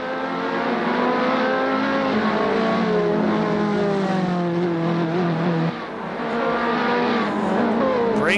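Race car in a Dallara esports racing game driven through the final corner of a circuit, engine note loud and steady with shifting pitch as it revs through and out of the turn, with no speech.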